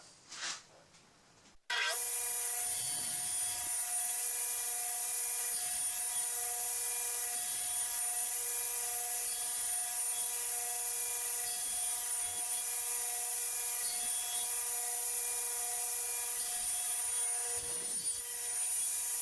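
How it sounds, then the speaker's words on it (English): A power saw trims the ends off a wooden vanity door held on a sled, starting after a short pause with a loud, sustained whine that runs steadily to the end, with no talking. "then we'll get it on the sled and trim off the little ends"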